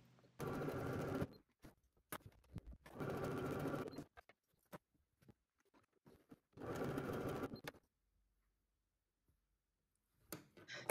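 A Bernette b37 sewing machine stitches buttonholes in three separate bursts of rapid, even needle clatter, each about a second long, with quiet clicks and handling sounds between them.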